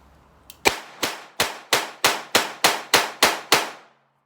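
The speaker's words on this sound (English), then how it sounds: "I'm going to go ahead and just rapid fire through all of these and see how many failures I have" Ten sharp, loud shots fired in quick succession from a Smith & Wesson 617 .22 rimfire revolver at an outdoor range, evenly spaced about a third of a second apart, with no talk.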